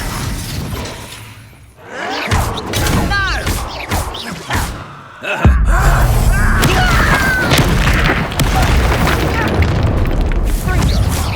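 Confringo spell explosions in the Hogwarts Legacy video game, loud booming blasts with shattering crashes among battle effects, while characters shout and speak through the fight.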